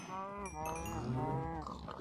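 Cows from the Minecraft video game moo in a steady, drawn-out run of low, tonal lowing, close and loud, with a second call overlapping toward the end.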